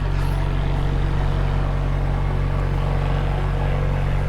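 A steady, heavy tractor engine drone rumbles close by throughout as it mows grass, deep and constant with a slight rise and fall as the tractor moves.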